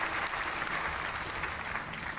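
A burst of applause, many hands clapping densely and steadily, with no pauses.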